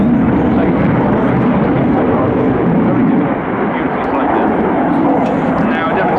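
A Saab JAS-39C Gripen jet fighter of the Swedish Air Force performs turns and a barrel roll in a flying display at an airshow, its loud, continuous broadband engine roar filling the air steadily.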